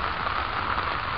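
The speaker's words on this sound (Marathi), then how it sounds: "तर आता पाऊस थांबणं गरजेचं आहे" Steady rain pours over a tomato field with water-filled furrows, a dense, even hiss lasting throughout with no breaks and no voices.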